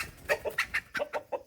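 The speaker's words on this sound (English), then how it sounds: "Y'all just scared a chicken out." A startled chicken clucks in a short run of about seven sharp, evenly spaced squawks, close and loud with no talking over it.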